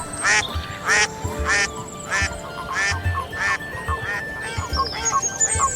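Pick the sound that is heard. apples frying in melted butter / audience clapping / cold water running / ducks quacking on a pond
ducks quacking on a pond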